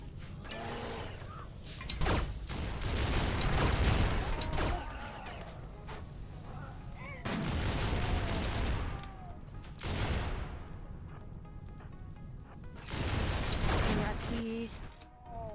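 Turrets open fire in a Rimworld colony defense, with bursts of mechanical gunfire clattering in clusters separated by brief lulls, moderately loud with metallic ratcheting textures.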